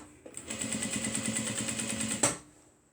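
A sewing machine stitching fabric for a crossbody mini bag runs in one steady, fast, buzzing burst of about two seconds, close and fairly quiet, then stops with a faint hum trailing off.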